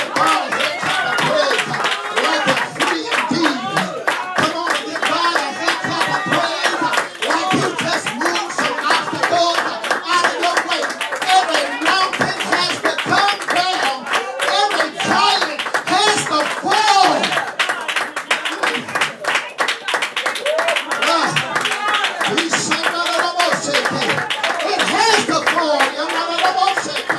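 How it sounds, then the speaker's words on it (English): A church congregation claps steadily and rhythmically, with voices mixed in throughout, a dense continuous wall of hand claps. "Come on and give God a head clap of praise."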